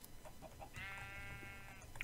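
Sheep bleating in Minecraft, a single drawn-out, wavering bleat in the middle of the clip over faint background game sounds.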